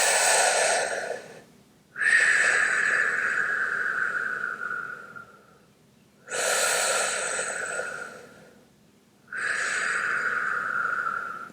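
Deep breathing in and out through the mouth during a Kundalini stress-release kriya, heard as long, loud, close-up airy breaths in a slow repeating cycle with short quiet gaps between them, and no talking.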